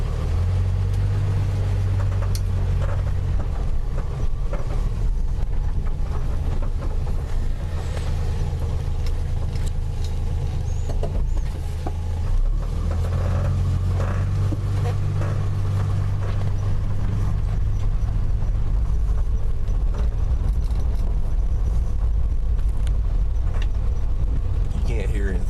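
Plymouth Valiant idling with a cold engine and then backing slowly over gravel, a steady low rumble close by with a faint crunch beneath it and a voice talking over it.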